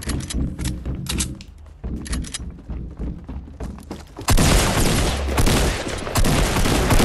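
Shotgun blasts and gunfire in the Fortnite battle royale, with the legendary new shotgun. Sharp repeated shots and booms come through game audio, and a sustained loud burst of fire follows partway through, with faint voice in places.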